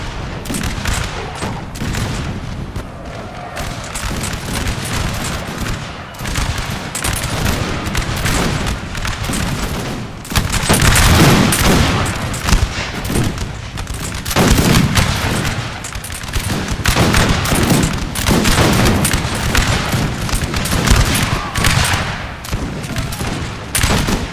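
Massed musket volleys crackle through a Napoleon: Total War battle, dense overlapping gunfire bursts rolling continuously with heavier booms swelling midway, loud and sustained without pause.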